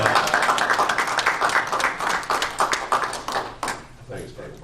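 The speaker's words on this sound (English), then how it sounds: "give Jason Basir a round of applause for the job he's doing for the city" A round of applause rises at a Le Mars city council meeting, a quick patter of many hands clapping fairly close, fading out toward the end with some voices mixed in.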